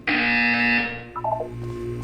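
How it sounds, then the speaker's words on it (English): A loud buzzer sounds in the video game Portal 2, a harsh sustained electronic tone close up that holds for under a second and then drops to quieter, lower pulsing tones. "You will hear a buzzer. When you hear the buzzer,"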